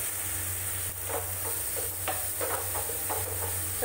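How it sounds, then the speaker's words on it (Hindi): Tomatoes fry and get pressed and stirred in a pan for raw banana bharta, a constant loud sizzle with a low steady hum underneath and soft scraping strokes recurring through it. "डाल देते हैं इसमें टमाटर, टमाटर को सॉफ्ट होने तक भूनना है।"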